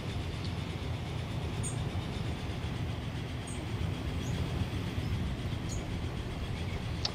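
A train running through the Transport Fever video game: a steady, continuous rolling rumble with faint rhythmic wheel clatter and occasional light squeaks, unbroken from start to finish.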